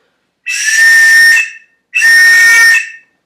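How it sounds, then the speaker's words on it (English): Two long, loud, shrill whistle blasts, each about a second long, separated by a short pause, signalling a sailboat race start from the race committee. "They're going to blow 2 long whistles"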